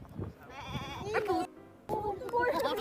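A goat bleats loudly in a few strained, wavering calls with short gaps between them, heard close up.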